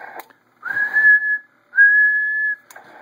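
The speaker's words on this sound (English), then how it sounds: "So if I whistle here" A person whistles into the microphone of a radio transceiver while tuning an antenna: two steady, clear, sustained whistled tones, each about a second long, loud and close, with faint room sound between.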